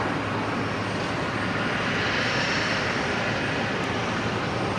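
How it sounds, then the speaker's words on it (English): Steady, loud roar of an Airbus A380 airliner moving at night at Brisbane Airport, a continuous broadband engine rumble that holds level throughout with no voices. "I'm about to witness the A380 move at Brisbane."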